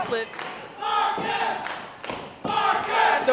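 A wrestling crowd at a tag team gauntlet match shouts and cheers loudly in surging waves, with a brief lull before the noise swells again.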